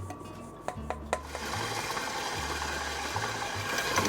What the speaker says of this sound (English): You're going to mix this at low speed until our dough forms